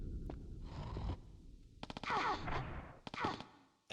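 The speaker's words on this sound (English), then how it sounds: "Now he's gonna shoot me." Enemy gunfire in the video game Tomb Raider: Chronicles, short bursts of rapid rattling shots, a couple of separate volleys with brief pauses between them, fairly close and loud.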